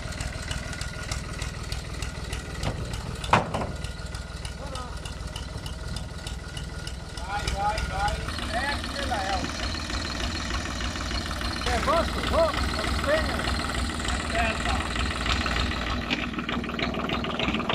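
A Fiat 450 tractor engine idles steadily in a continuous low mechanical rumble, with a brief knock partway through and people talking over it in the background.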